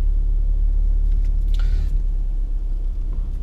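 A car engine idles low and steady while the car rolls slowly into a fuel station under clutch control, giving a continuous close rumble with a brief faint rise partway through.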